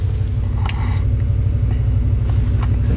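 Freshly rebuilt Ford big-block V8 idling at operating temperature with a slight shake, a loud, steady low rumble close by, with a couple of faint clicks and clatters on top and no talking.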